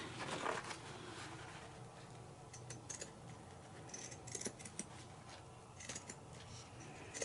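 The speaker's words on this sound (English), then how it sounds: "I am going to use my pinking shears." Pinking shears snipping through crocheted lace, a quiet series of light, crisp cuts at close range with a faint background murmur and no talking.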